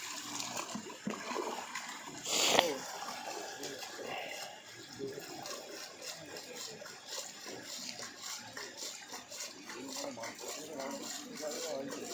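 Water sloshes and splashes in a pond as large catla fish are released, with one sharper splash early on and continuous trickling and agitation after it; people talk faintly in the background.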